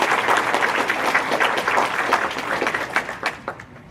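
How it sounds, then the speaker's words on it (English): Audience applause at a student conference opening session, a steady burst of many hands clapping that tapers off toward the end. "let's give another round of applause to Caitlin."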